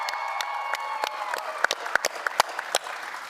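An in-person audience in Las Vegas applauds at an Elder Scrolls Online chapter preview, steady crowd clapping with a few sharper nearby claps standing out and some faint cheering.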